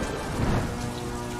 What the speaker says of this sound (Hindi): अब तो तुम्हारे साथ रोने के लिए बारिश भी आ